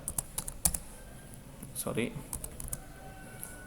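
Typing on a computer keyboard while configuring a Cisco router, close clicks in quick bursts with pauses, and a brief voice partway through.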